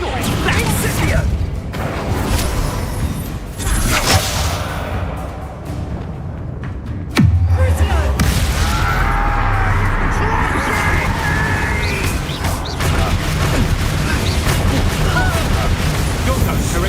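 The Incendio fire spell in Hogwarts Legacy goes off as a sudden fiery burst midway. It lands over dense, continuous game music and effects, and a voice is heard around it.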